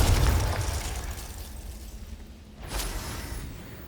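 A Confringo blasting spell explodes in a Harry Potter wizarding video game, a deep low boom at the start that rumbles and fades, followed by a softer second burst with a brief whoosh.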